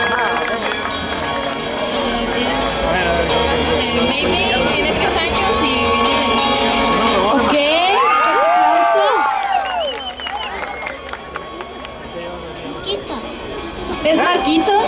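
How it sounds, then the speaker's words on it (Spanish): Audience at a children's cosplay contest at an anime festival clapping and cheering in a dense crowd roar, while an announcer talks loudly over the noise through a microphone. "¡Aplausos!"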